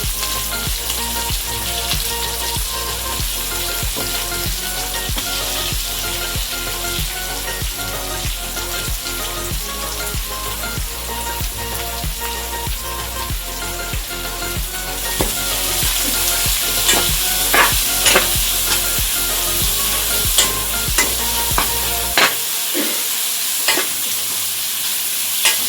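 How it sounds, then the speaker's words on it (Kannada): Onions sizzle and fry in a pan with curry leaves and green chillies, a steady crackling hiss under repeated stirring scrapes, loud and close, before the frying briefly drops away near the end. "ಸ್ವಲ್ಪ ಈರುಳ್ಳಿ ಬೇಯಲಿ, ಅಲ್ಲಿವರೆಗೂ ಹಂಗೆ ಕೈಯಲ್ಲೇ ಫ್ರೈ ಮಾಡ್ತಾ ಇರಿ."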